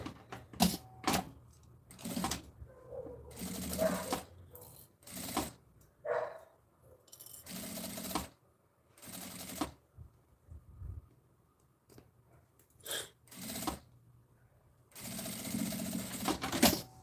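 A sewing machine stitches a safety seam on a small zippered fabric bag, running in short bursts of rapid mechanical whirring separated by pauses, with quiet handling sounds between runs.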